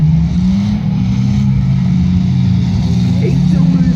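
XC Ute car engine at a Boonah show demolition derby, a loud continuous droning rumble that holds steady throughout, with a commentator speaking over it.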